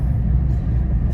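A grandmother's car is driven, a steady low interior rumble of engine and road noise, loud and unbroken, with no voices.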